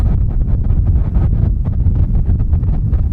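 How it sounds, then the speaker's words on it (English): Strong outdoor wind buffets the microphone in loud, continuous low rumbling gusts, with no one talking. "The wind's really getting up here."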